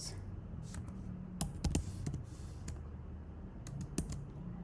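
Quiet typing on a computer keyboard while entering an SQL query, with irregular bursts of key clicks and brief pauses, close and faint, with no speech.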